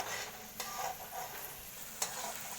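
Maggi masala being stirred in a pan, a soft scraping stir with faint sizzling and a couple of sharper spoon clicks against the metal, close and quiet, with no talking.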